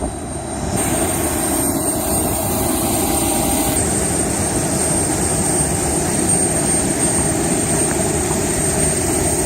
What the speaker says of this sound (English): Last flight on South African Airlines.